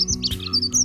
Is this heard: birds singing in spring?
yes